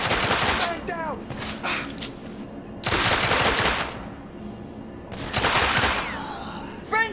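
Bursts of rapid gunfire in The Order: 1886 come in three loud volleys separated by short lulls, with shouted voices and game chatter woven between the shots.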